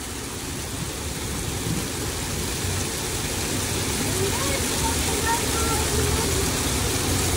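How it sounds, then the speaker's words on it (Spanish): Heavy rain pours steadily with a dense, broadband hiss as hail pelts surfaces in Oaxaca, while muffled voices talk underneath throughout. "en menos de 5 minutos empezó a llover demasiado. Y a granizar."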